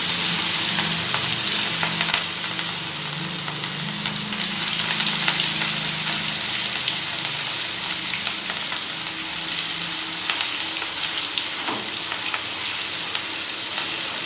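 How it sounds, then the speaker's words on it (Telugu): Pieces of fish fry in hot oil with a loud, steady, close sizzle and a crackling hiss that holds throughout, with no talking. "ఇప్పుడు ఏంటంటే మనం చేపల ఆయిల్లో వేసేసుకుందాం ఫ్రెండ్స్"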